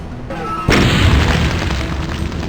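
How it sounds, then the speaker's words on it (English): A big explosion goes off in Fall of Society, played on ZDoom v2.8.1: a sudden loud boom after a short quiet stretch, followed by a sustained, noisy rumble that fills the rest of the moment. "This is where we're going to have the big explosion this time."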